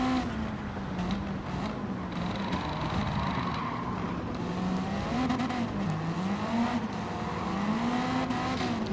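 A race car engine in Gran Turismo 7 drones continuously at moderate loudness, its pitch rising and falling through gear changes and corners, with no talk over it.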